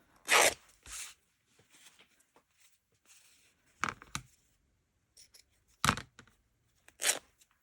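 Scissors cutting paper down to size for an art piece, several short crisp snips spaced apart with quiet pauses between them, close and clear.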